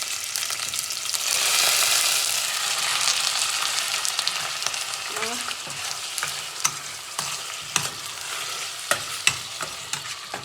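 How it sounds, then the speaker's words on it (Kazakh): Chicken breast sizzling steadily in hot oil in a pan for homemade shawarma, a loud, continuous frying hiss with occasional sharp crackles and pops, some brief clicks and knocks near the end. "Жаймен саламыз. Себебі майымыз қызып тұрды."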